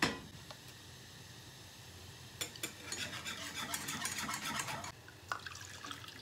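A sauce being stirred as chicken stock is mixed in over raised heat, with soft scraping swirls and a faint sizzle, quiet and close, building in the middle and easing off near the end.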